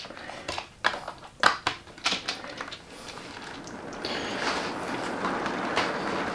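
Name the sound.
model railway train rolling along track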